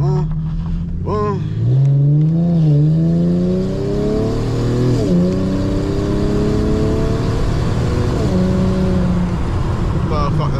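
Car launching and accelerating hard, engine revving up through rising pitch sweeps with gear changes, close and loud, with someone talking over part of it.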